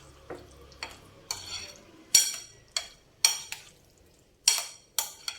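Cucumber and tomato chutney being stirred and mixed, a series of sharp scraping and clinking strokes against the bowl, close and fairly loud with short pauses between, no voices.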